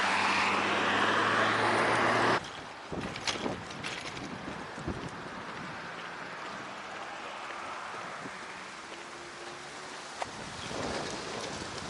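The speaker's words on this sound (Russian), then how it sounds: "Что-то реально ветер ледяной такой." Icy southern wind blows outdoors on an October walk in Komsomolsk-on-Amur, a loud buffeting rush against the microphone at first, then a steady airy roar mixed with distant traffic hum.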